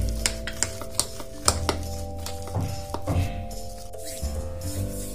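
Mashed potato being mixed with spices for aloo paratha, with repeated clinks and scrapes of a utensil against a bowl or pan, fairly close and steady, with no voices.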